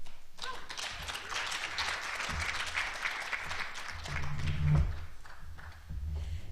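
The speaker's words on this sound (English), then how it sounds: "I think she deserves a better round of applause." Applause from an audience at a teacher education plenary session, a steady wash of clapping through most of the moment, swelling briefly near the end with some low rumble.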